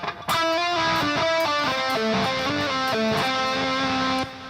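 Distorted electric guitar plays a solo line with every note left ringing instead of palm muted, loud and close; overlapping notes blur together into a noisy wash, with no voices.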